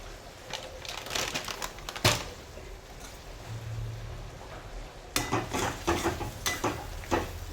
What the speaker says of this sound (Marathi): त्यानंतर आता थोडंसं बेसन पीठ टाकून घ्यायचं आहे.